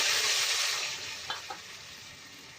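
Mustard-poppy and green chili paste frying in oil in a wok, a bright hissing sizzle that gradually softens. Two small clicks come near the end, and no one speaks.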